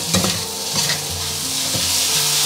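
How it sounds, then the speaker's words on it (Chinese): Minnan-style pork ribs stir-fried over high heat in a wok, with loud, continuous sizzling and the scrape and clatter of a spatula tossing the meat, close up and with no voices. "然后开大火翻炒均匀"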